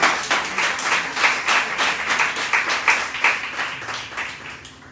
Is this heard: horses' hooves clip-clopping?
no